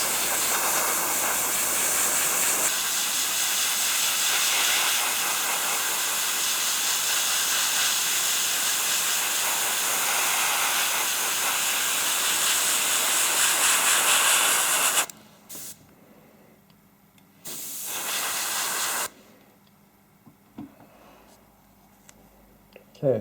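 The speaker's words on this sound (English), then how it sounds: "I'll spray that wet, like I would spray my normal gloss coat." An airbrush sprays a wet coat of satin varnish mixed from gloss and matte coat, giving a steady close hiss for about fifteen seconds, followed by a short second burst and then quiet.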